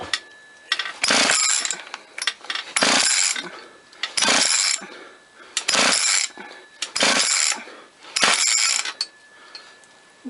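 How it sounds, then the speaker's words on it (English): A motorized bicycle engine is cranked over during a compression test, giving repeated bursts of mechanical ratcheting and whirring in about six separate cranking pulls, with short pauses between them. The sound is close and fairly loud. "So let's crank this thing over, see what it does."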